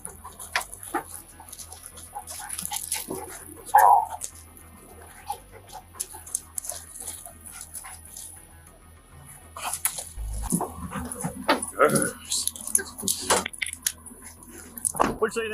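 A police drug-sniffing dog works around a vehicle during a roadside search, giving scattered sniffs, snorts and a brief whimper over a busy background, with people talking nearby.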